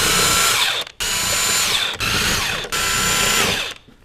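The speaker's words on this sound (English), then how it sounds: "So, I got my impact gun. What I do, go in here, undo these." An impact gun undoing the bolts on a Z32 300ZX brake caliper, loud buzzing rattling bursts in four close runs with brief gaps between them, winding down at the end.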